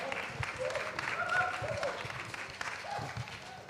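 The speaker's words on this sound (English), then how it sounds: "You're getting really good at accepting that clapping." An audience applauding at a student election event, steady clapping that stays moderately loud and dense throughout, with faint voices mixed in.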